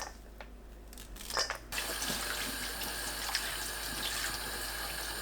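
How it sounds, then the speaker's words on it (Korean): Running tap water pours steadily into a kitchen sink while perilla leaves are rinsed, with a louder splashing burst early on before settling into an even, close rush. "깻잎은 줄기 자르고 깨끗하게 씻어주세요."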